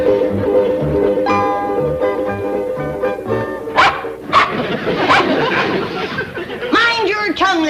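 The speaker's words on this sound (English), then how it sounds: "Mind your tongue, little dog." A small dog barks repeatedly in an indoor comedy scene, with sharp yips and bow-wows scattered over continuous conversation and background music.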